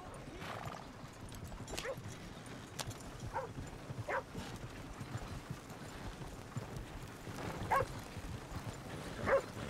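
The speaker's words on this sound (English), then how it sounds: "That's okay, they got a dog though." A dog barks in short, scattered bursts in the Red Dead Redemption 2 video game, mixed with clopping horse hooves and occasional whinnies on a quiet town street, the barks fairly faint with a louder one near the end.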